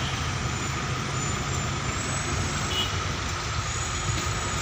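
Busy street traffic in Baguio City, a steady dense wash of trucks and vehicles close by, with a faint beeping mixed in and no one talking.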